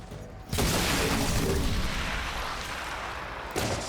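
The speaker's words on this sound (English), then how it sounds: "So shoot the Andromedon." Gunfire aimed at an Andromedon in the video game XCOM Chimera Squad, a sudden loud burst of booming shots that fades over a few seconds, then another sharp hit near the end.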